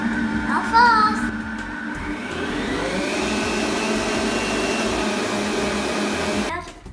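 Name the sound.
mixing cupcake batter fast with a mixer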